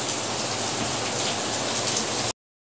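Rain falling outside in town, a steady hiss of drops pattering on surfaces, continuous and fairly loud before it cuts off abruptly near the end, with no voices.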